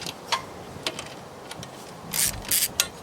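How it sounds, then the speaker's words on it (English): A ratchet turns a 10mm deep well socket on an extension while fuel injectors are installed on a Jeep Wrangler YJ 2.5L, giving faint, irregular clicking ticks followed by a few louder bursts of rattling. "10mm deep well socket with an extension."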